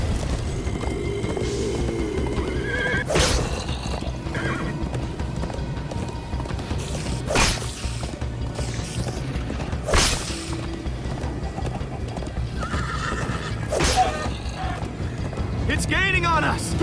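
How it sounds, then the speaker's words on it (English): Horse hooves clatter at a gallop in Minecraft Story Mode, a steady mechanical clip-clop under a continuous game soundtrack, broken by several sharp loud bursts, with characters calling out over the action. "First time on a horse here."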